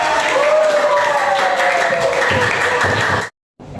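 Classroom applause for the winning student group after a team game, dense steady clapping from a crowd of children with voices mixed in, ending abruptly in silence.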